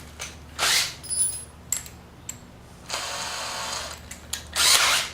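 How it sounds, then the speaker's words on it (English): A drill bores into a motorcycle exhaust baffle on a Honda Sabre café project, in several short, separate whining bursts with pauses, fairly close and loud, with no talking. "I drilled right into one of the holes, one of the spot weld holes."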